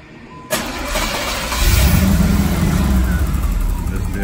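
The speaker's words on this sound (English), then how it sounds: "Start the car up. It may not start up on the first try." A car with a Crossfire Injection V8 (305 or 350) cranks and fires at about half a second, then settles into a loud, steady, slightly rough low idle that swells after a moment and continues close by.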